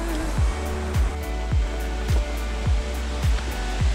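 A waterfall in northern Albania gives a steady, dense rushing roar, with soft regular thumps about twice a second running through it.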